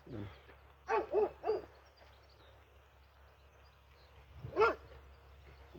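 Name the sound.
guard dogs barking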